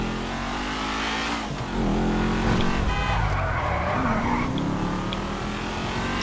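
A car in GTA 5 drives roughly with a steady roaring engine, tire squeals and skids, and a few dull bumps of impacts as it hits things.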